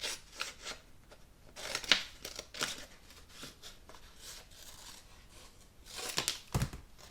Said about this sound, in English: now I'm just going to bring in my scissors and trim this down